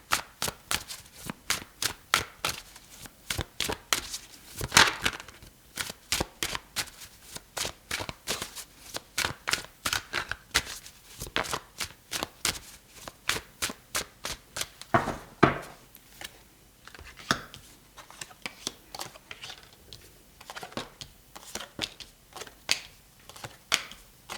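A deck of tarot cards being shuffled by hand, with soft rapid riffles and flicks repeating steadily for over twenty seconds, close and quiet, with no talking.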